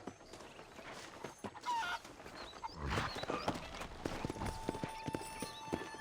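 Horse hooves clip-clop steadily at a walking pace in Red Dead Redemption, fairly close, with a brief whinny and some background animal sounds.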